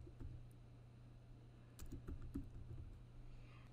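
Quiet, close computer keyboard typing, with scattered light key taps in small clusters over a steady low hum.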